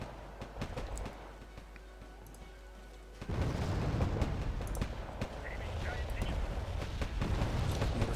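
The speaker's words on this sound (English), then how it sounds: "Mortar fire." Mortar fire in Wargame Red Dragon: rumbling artillery booms and scattered distant shots grow into a dense roar of explosions partway through, with a commander talking over the battle.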